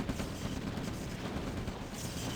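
Dense, continuous rumbling gunfire and explosions from the Red Alert strategy game in OpenRA, a loud wash of overlapping blasts with no clear gaps.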